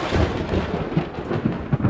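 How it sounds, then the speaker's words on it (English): Thunder rolls through a storm as a dense, continuous rumble with soft swells and small crackling peaks, heavy and close throughout without any voices. "Oh, no, I love thunderstorms."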